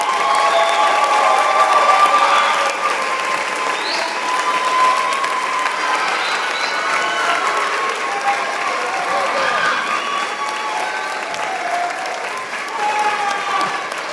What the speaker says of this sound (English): please turn around and give them a round of applause and a wave and a shout out